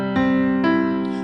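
Piano notes played as a short sustained pattern, with two clear struck attacks and ringing harmonics blending under the sustain, close and steady, no voices.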